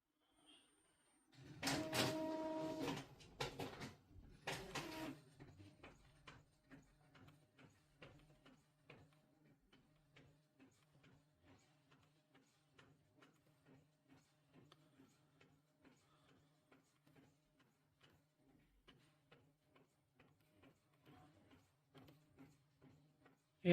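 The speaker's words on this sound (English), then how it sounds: "Sublimation printer we need for this." A sublimation printer runs through a print job on its own. A brief loud mechanical clatter near the start gives way to a steady low hum with rapid, regular ticking from the print head that continues to the end.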